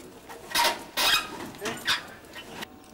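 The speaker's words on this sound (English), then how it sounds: "the pigeons have arrived at the starting gate for the first race" Racing pigeons gathered at the starting gate of a race site on a Saturday morning, giving soft, intermittent coos and fluttery bursts in several short clusters, moderately close, with no talk over them.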